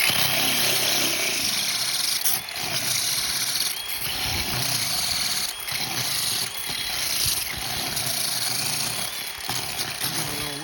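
A 2-inch diamond blade cuts into concrete with a steady, loud high-pitched grinding whine that continues almost unbroken, with brief dips as the cut shifts, during construction of a stainless steel cable and post railing.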